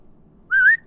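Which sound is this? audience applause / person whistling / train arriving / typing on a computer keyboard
person whistling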